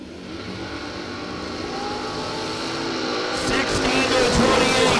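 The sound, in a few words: drag racing dragster launching and accelerating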